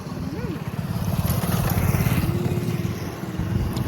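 A small Honda Activa scooter engine hums steadily while riding, with wind rush and road noise, a voice briefly audible under it.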